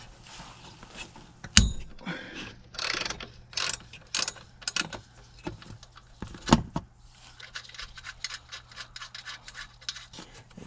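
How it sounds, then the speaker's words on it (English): A ratchet with a 12mm socket is turned to remove a bolt on a Mazda 3 engine, giving rapid clicking pawl bursts mixed with knocks and metal rubbing, up close, with no talk. "12mm socket to take off this bolt here."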